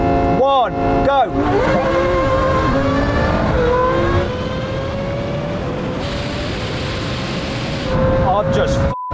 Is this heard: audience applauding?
no